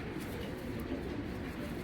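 Giribaz pigeons at a farm loft coo in a steady low murmur that runs through the whole moment, several birds close by with no talking.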